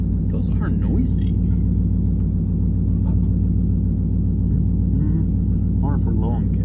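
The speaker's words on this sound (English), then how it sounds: "Those fuel pumps are kind of noisy." A single-turbo 2018 Mustang GT idles with its aftermarket fuel pumps running noisily, a loud steady low rumble and hum that holds unbroken, while people talk nearby over it.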